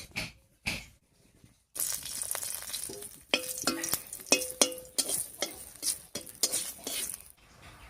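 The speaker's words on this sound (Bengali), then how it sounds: "এই তেলের মধ্যে কয়েকটা শুকনো লঙ্কা ভেজে নামিয়ে নিচ্ছি" Dry red chillies fry in mustard oil in a wok, giving bursts of hissing sizzle broken by sharp metallic clinks and scrapes of a utensil stirring against the pan, close and without speech.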